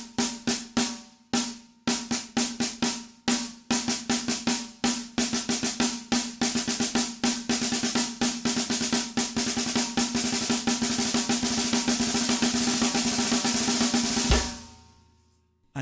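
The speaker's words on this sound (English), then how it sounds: "starts with 2 doubles and then finishes with 2 singles. So it sounds like this." Snare drum six-stroke rolls, each starting with two doubles and ending with two singles, repeated as a steady stream of crisp close strokes that speeds up into a continuous buzzing roll before stopping abruptly, with no talking.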